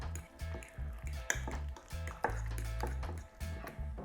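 Grated continental cucumber stirred in a pot, giving a soft, wet, squelching scrape in short rhythmic strokes with light clinks of utensil against the pot, close and fairly quiet.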